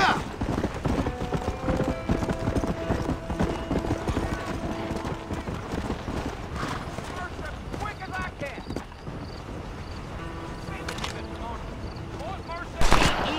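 Horse hooves clip-clopping steadily during a ride in the video game Red Dead Redemption, mixed with a continuous game soundscape, distant gunfire-like bursts and a brief louder burst near the end.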